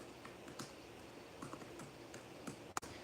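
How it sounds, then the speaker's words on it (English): Soft keystrokes on a computer keyboard tap out an irregular run of quick clicks, close and fairly quiet, with one sharper key press near the end. "So you just type in cassette recorders,"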